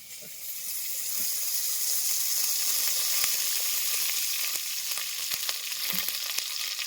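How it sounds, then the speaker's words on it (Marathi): Hot oil crackling and sizzling steadily in a heated pot for a biryani, a broad continuous hiss with small pops, close and fairly loud with no talking. "आता आपण तेल टाकून घेणार आहे."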